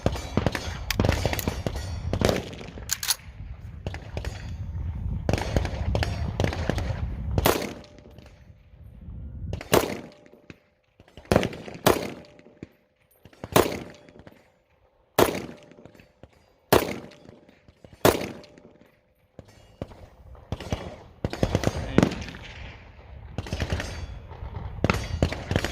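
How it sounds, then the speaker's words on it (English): Rifle fire, a string of sharp, loud shots at irregular intervals, some close together and others spaced seconds apart, with noisy handling and outdoor ambience between them. "I haven't shot this gun in a while."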